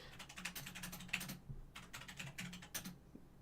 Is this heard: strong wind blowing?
no